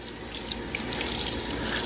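Tap water runs in a steady, even stream while roasted chiles are rinsed and cleaned for chile rellenos, a close continuous splashing with no talking.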